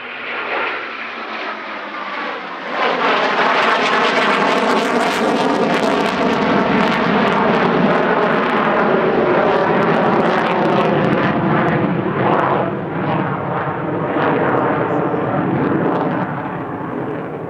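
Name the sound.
two Eurofighter Typhoon jets flying past in missing man flyby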